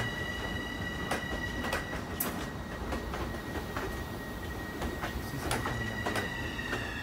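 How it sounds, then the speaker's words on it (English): LIRR/Metro-North train without passengers rolling by a platform toward the yard with a steady rumble, repeated wheel clicks and a high metallic squeal ringing over the top, no talking. "this train is going to the yard"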